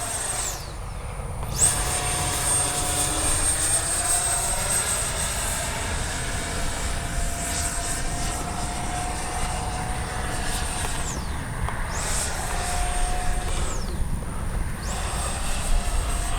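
An XFLY F-35 RC jet flies overhead, its electric ducted-fan whine rising and falling as it passes repeatedly, steady and moderately loud against an outdoor background.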